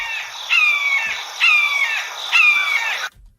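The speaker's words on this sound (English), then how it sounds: "That is the red-shoulder red hawk." Red-shouldered hawk calling three times in a row, each a loud, harsh scream that slurs downward, evenly spaced over about three seconds with nothing else heard.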